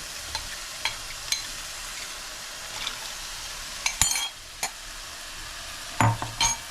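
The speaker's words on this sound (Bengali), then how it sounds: "দিয়ে এই জলটা আমি মেশাবো, মিশিয়ে এটা ঢাকা দিয়ে এটা কষতে থাকবো যতক্ষণ না তেল ছাড়বে" Bengali crab curry masala frying in a pan after water is added, a soft continuous sizzle broken by sharp clinks and scrapes of a spatula stirring against the vessel.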